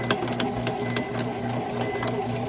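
A bread machine kneads a batch of soft, milky dough, its motor whirring steadily with repeated rhythmic clicks and thumps from the paddle turning, close and fairly loud with no talking.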